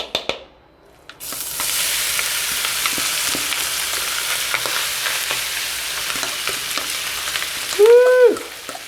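Pork sisig hits a red-hot pan and bursts into a loud, continuous sizzle with crackling pops for several seconds, ending with a short exclaimed voice.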